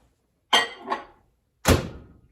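A kitchen microwave oven door is worked: a quick latch click and clunk, a softer follow-up knock, then a firmer thud about a second later, close and isolated against quiet.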